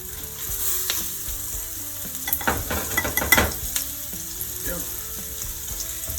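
Chicken pieces sizzle in hot oil for Southern fried chicken, a steady close crackle with a few clinks of turning as they brown.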